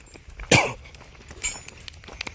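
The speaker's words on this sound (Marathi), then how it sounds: "खोकला येतोय मला थोडा थोडा" A person on a long walking pilgrimage coughs nearby, one sharp cough followed by a second weaker one about a second later, over quiet outdoor background.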